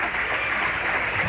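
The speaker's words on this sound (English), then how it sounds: "He gets a hand from the crowd." A basketball game crowd applauds in a gym, a dense, steady wash of clapping heard at a distance.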